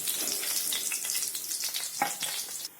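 Chicken fries in a pan (korma preparation) with a close, continuous crackling sizzle, punctuated by occasional stirring scrapes, stopping abruptly at the end.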